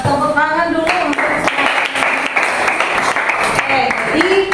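A class claps and applauds for several seconds, a steady dense patter of many hands in a classroom, with voices and cheering heard over it.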